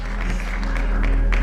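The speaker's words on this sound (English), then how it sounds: "We can give an applause, man." A short burst of applause from a small group, a steady wash of clapping that stays loud for under two seconds with no pauses.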